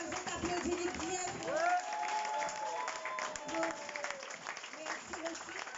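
Audience applause at a political meeting of the En Avant Moris party in Mauritius: a steady wash of clapping that holds for several seconds, with voices and crowd noise mixed in.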